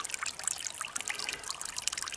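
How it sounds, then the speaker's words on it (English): Water trickles into a muddy footprint on a wooded trail, a faint, close, irregular dribble with small splashy drips scattered over a quiet background. "there is water trickling into it"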